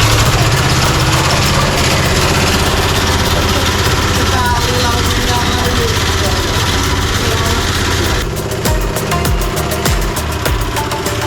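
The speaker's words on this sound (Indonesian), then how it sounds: "Tiba waktunya menyalakan mesin untuk menghaluskan kedelai." A machine grinds soaked soybeans for tofu in a steady, loud mechanical drone with a low, rumbling engine-like vibration that runs throughout, changing slightly near the end.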